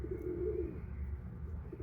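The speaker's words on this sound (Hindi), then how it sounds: "हमारा जो वाइट कबूतर है राजा वो अभी अंडों पे बैठा हुआ है" A white pigeon coos in a soft, low, throaty murmur, close and steady, with a short rolling phrase and no talk over it.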